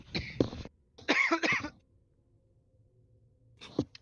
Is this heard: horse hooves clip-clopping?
no